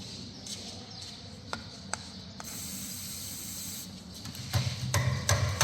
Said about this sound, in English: Suppose we give it some penetrating fluid.